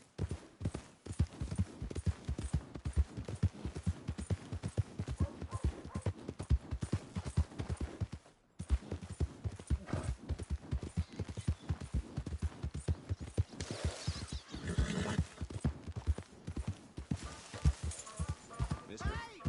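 Horse hooves clip-clop at a steady walking rhythm in Red Dead Redemption 2, close and continuous across the whole stretch with a brief break midway, joined later by a soft rustle.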